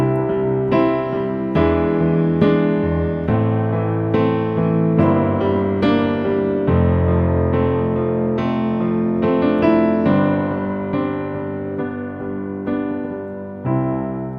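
A sustained harmonic chord progression with secondary dominant chords on a keyboard-like instrument, chords changing every second or so at steady volume, with no voices.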